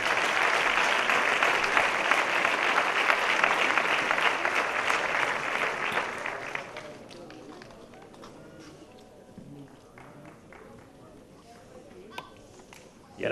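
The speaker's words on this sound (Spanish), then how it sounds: "Pues ese aplauso para ellos también." Audience applause at a local sports awards gala in Almonte, a dense steady clapping that carries strongly for about six seconds and then fades, leaving a quieter room with faint scattered noises.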